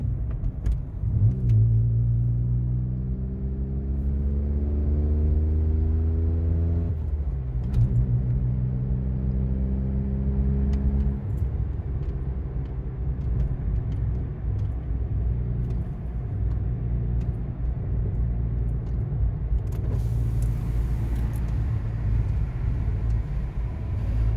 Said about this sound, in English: so you can just get a sense of how does it sound in the cabin with the exhaust mod